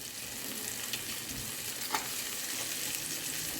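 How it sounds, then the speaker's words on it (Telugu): Okra curry sizzling and frying in a generous amount of oil, a steady close hiss with a faint stir near two seconds, no voices. "బెండకాయ కర్రీకి కొంచెం ఆయిల్ ఎక్కువనే పడుతుంది."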